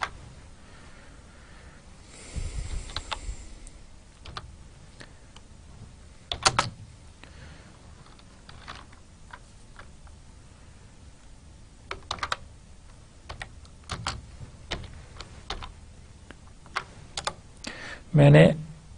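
Keystrokes on a computer keyboard come in scattered bursts, fairly faint and close, with a louder knock near the end and light room noise between.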